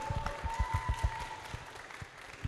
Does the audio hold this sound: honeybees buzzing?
no